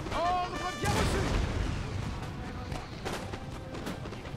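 Musket volleys and artillery booms roll through a Napoleon: Total War battle, a dense wash of distant gunfire and blasts under game ambience, with a loud burst near the one-second mark.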